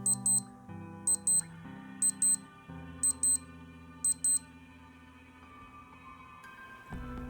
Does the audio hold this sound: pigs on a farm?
no